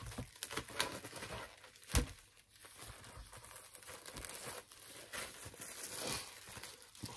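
Cardboard and plastic wrapping of a dented, damaged Amazon delivery box crinkle and tear as it is opened by hand, a steady close run of rustling with a few sharper rips and no voices.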